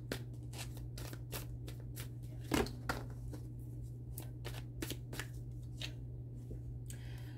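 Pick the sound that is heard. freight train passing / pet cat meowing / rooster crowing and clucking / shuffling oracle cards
shuffling oracle cards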